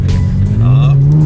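Classic car at a car meet in Riyadh, Saudi Arabia, with a loud, close engine rumble whose pitch climbs steadily as it revs over about a second, over background crowd noise.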